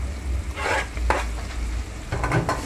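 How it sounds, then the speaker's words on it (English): Salt mackerel rundown curry with scallion and garlic is stirred in a pot, spoon scraping in uneven strokes over a steady frying sizzle, close and fairly loud. "And then I'm stirring that now."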